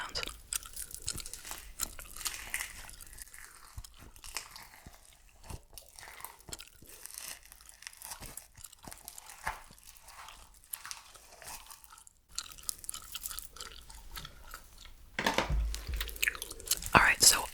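Close, wet gum chewing with crunchy crackles and squelches, steady and intimate, growing louder and more crackly toward the end.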